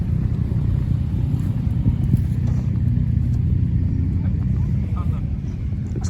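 Harley-Davidson motorcycles rumbling past in Japan, a loud, continuous low engine drone that swells and holds for several seconds, close by with traffic noise around.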